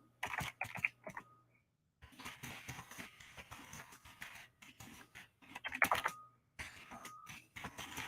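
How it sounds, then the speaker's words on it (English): Typing on a computer keyboard, quick irregular bursts of clicks close by with short pauses between runs of keystrokes, fairly quiet, no talking. "I'm just going to try to type out my message for them."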